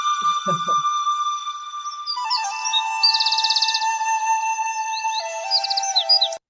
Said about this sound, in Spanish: Vamos a apagar los pajaritos, ¿sí?